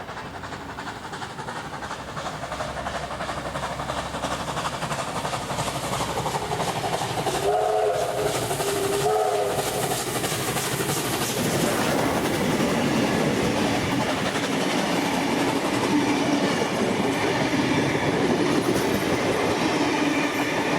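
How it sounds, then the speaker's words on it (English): A steam locomotive runs through Bowral in New South Wales. A steady, loud rolling rumble with rail clatter lasts throughout, and a brief tonal whistle-like sound rises partway through. "The locomotive is now seen at Bowral."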